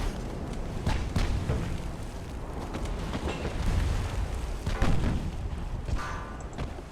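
Salvos from 11-inch naval guns in the warship game Ultimate Admiral: Dreadnoughts, a series of deep booms and rumbling thuds rolling through a continuous low battle drone, some near and some more distant.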